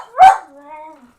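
A single sharp dog bark rings out close by, trailing into a brief whiny tail; a woman chats with the bossy dog around it.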